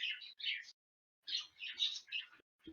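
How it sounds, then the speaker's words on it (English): Pet budgies chirp in two quick bursts of bright, twittering calls close to the microphone, separated by a short silence, with a faint low sound near the end. "Are you guys getting the birds real bad"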